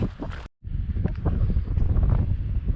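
Strong wind buffets the microphone in a hot, dry desert riverbed, a loud continuous rumbling roar with a brief cutout near the start.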